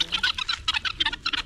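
Birds, probably chickens, near maize laid out to dry in a rural yard make a rapid series of close, bright chirps and clucks in short bursts, with no talking.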